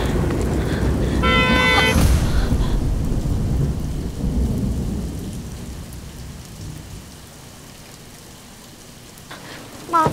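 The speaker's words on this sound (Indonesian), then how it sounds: "Lagi hujan juga" Heavy rain pours down steadily on surfaces while thunder rumbles loudly near the start, then the downpour eases to a softer, even patter.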